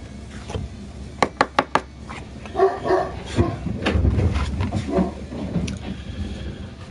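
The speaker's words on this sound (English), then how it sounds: "Of course my dogs bark every time I do that." Several dogs bark in a quick burst of four sharp yaps near the start, followed by rustling and handling noises with a few fainter yips in the background.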